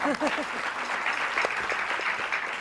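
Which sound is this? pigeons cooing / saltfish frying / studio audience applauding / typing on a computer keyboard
studio audience applauding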